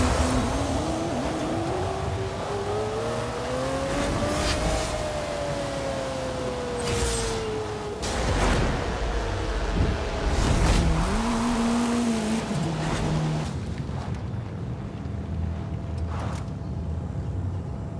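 Racing car engine in Forza Horizon 5 Eliminator mode, revving and rising in pitch as it accelerates, with thuds and scraping impacts midway and a brief tire squeal, loud and continuous for about eighteen seconds.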